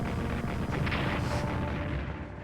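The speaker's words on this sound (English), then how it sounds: "they're bombing the hell out of those guys." Artillery bombardment in the World War I strategy game Strategic Command, a dense, continuous rumble of overlapping booms that stays loud before easing off slightly at the end, with no voices.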